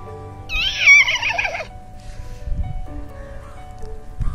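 A voice imitates a horse whinnying as if its reins were pulled: one wavering, high-pitched, neighing cry of about a second, followed by quieter low voice sounds and breathing.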